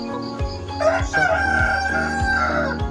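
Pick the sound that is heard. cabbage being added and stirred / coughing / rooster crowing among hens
rooster crowing among hens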